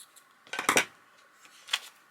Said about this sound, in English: Let's cut this one down.